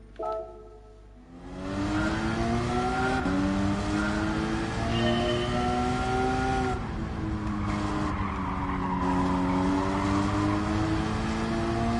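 A Porsche in Gran Turismo 7 revs up from a quiet idle into a loud, sustained engine drone. The pitch climbs through the gears with shifts and brief dips, and tire squeal runs under the engine. No one speaks.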